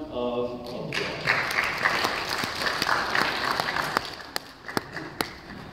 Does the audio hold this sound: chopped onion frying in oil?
no